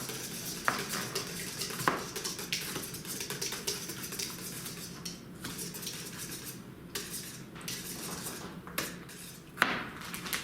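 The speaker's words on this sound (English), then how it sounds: "our full dozen eggs in there. Whisk that up." Eggs and plain Greek yogurt whisked together in a bowl, a steady rapid clatter of a whisk or utensil against the bowl with a few sharper knocks, fairly quiet and with no talking.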